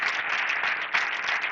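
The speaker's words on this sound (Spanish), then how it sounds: "Denle un aplauso fuerte al Señor" A crowd applauds steadily, a dense patter of many hands clapping at moderate volume with no voices over it.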